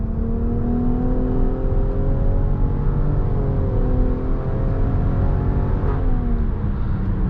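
A 2024 Nissan Rogue Platinum with the VC Turbo engine accelerates in sport mode onto a highway. A steady, loud engine drone with rising tonal whine is heard from inside the cabin, with a brief shift dip near the end.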